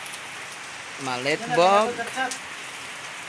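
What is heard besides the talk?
rain falling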